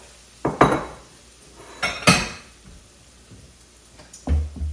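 A metal spoon or spatula scrapes fried rice from a pan into a bowl in a few sharp, loud clanks and scrapes, separated by quieter pauses.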